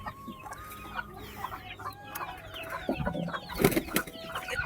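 Chickens cluck and call repeatedly in a busy farmyard beside a pigeon loft, irregular squawks and a louder burst of clucking near the end, with no talk.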